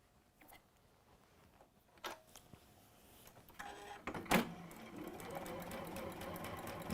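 A sewing machine seams fabric in a home workshop, its motor whirring in short bursts that build into a steady run, fairly close and clear.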